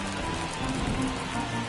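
Steady rain hiss from MLB The Show 24, falling continuously at a constant moderate level in a baseball stadium, with a faint rumble underneath and no clear distinct drops.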